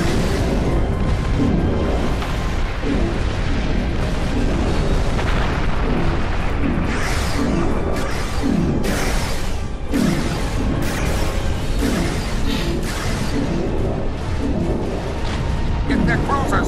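Protomatter torpedo blasts and heavy weapon fire from a Star Trek Online space battle against a Tzenkethi fleet make dense, continuous rumbling explosions, loud and unbroken throughout.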